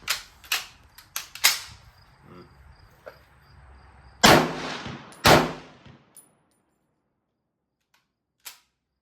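Outdoor range firing of an H&R CMP M1 Garand rifle, a few loud sharp shots spaced irregularly, the last two strongest, then near silence with one faint distant click.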